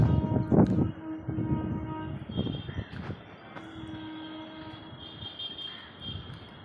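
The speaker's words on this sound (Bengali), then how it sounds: "এই দেখো ট্রেন যাচ্ছে।" Train going past near a rooftop, a low rumble with clattering bursts and a brief horn-like tone, moderately faint amid outdoor ambience and a few bird calls.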